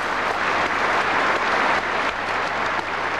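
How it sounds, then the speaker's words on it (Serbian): An audience at a radio theatre show gives a steady burst of applause, with dense, continuous clapping close by that holds at an even level throughout. "Možda bi čak bilo i za jedan mali aplauz"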